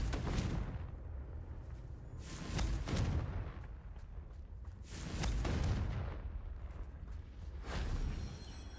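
Confringo fire spells from Hogwarts Legacy burst in a repeated series of booming explosions, roughly every two to three seconds, each blast loud and rumbling with a crackling tail.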